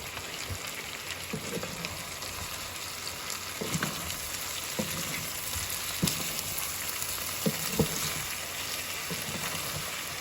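Sour cream sizzles steadily in a frying pan, a continuous crackling hiss with occasional soft knocks and clicks, fairly quiet and with no one speaking.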